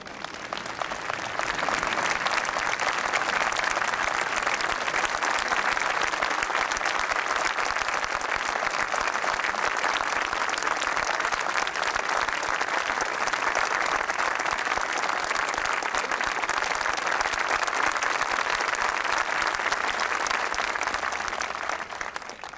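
Loud, sustained applause fills a large hall as a ceremony audience congratulates a singer at the 1994 Arts and Humanities Awards, steady clapping throughout with no speech.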